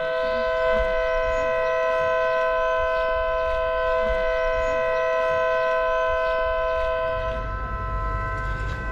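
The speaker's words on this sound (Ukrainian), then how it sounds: "Ось так звучить повітряна тривога в Великій Писарівці" An air raid siren in the village of Velyka Pysarivka blares as a steady, sustained multi-tone wail with a faint warble, heard from a moderate distance over low outdoor rumble.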